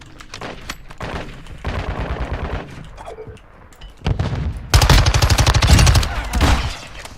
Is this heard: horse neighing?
no